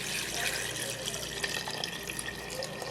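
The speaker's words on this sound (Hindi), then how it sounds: "तो मैं इसमें तकरीबन 2 कप पानी डाल दूँ।" Water is poured into a pressure cooker pot in a home kitchen, about two cups of it, making a steady splashing, gurgling rush close by with no talking.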